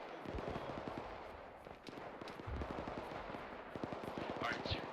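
Rattling bursts of distant gunfire in a military video game, a steady crackle of shots running under voices talking over the action.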